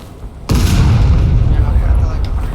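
An artillery shell fired in a video game: one loud, sudden boom hits after a short quiet lead-in, then a heavy low rumble sustains to the end.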